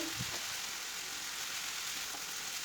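Minced meat sizzles steadily in a pan with red kapya pepper, onion and garlic, a continuous close frying hiss with faint stirring, no talk.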